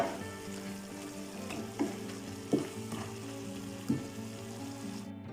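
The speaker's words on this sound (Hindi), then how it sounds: "हमने इसको अच्छी तरह भून लिया मसाले में" Chicken frying in masala for a chicken masala curry, a steady close sizzle with a few sharp stirring clacks against the pan, heard alone without voices.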